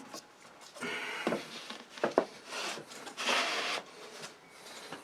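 Wooden raised panel door parts are pushed and slid together in a dry fit, producing close, scraping wood-on-wood rubs and a few sharp knocks in uneven bursts, with no talking.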